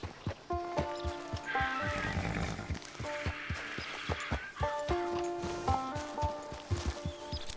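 A horse in Red Dead Online whinnies and neighs in drawn-out tonal calls over a steady clip-clop of hooves, close and clear, with faint game ambience underneath.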